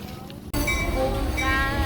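Train at a railway station in an Amish-area village in America, a loud steady rumble of wheels and carriages with brief squeals, close by and continuous after a short quieter start; faint voices in the background.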